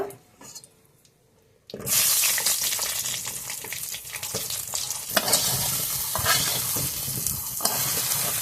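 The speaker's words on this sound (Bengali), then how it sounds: "ওই তেলের মধ্যে এখন আমি পটলগুলো ভেজে নেব।" Halved pointed gourd with the skin left on drops into hot oil after a quiet moment, setting off a loud, close, continuous sizzle and crackle that holds steady, with occasional stirring scrapes and no talking.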